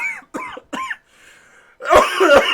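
Several harsh, throaty bursts, a couple of coughs, then a longer rougher fit of coughing and throat clearing close to the microphone.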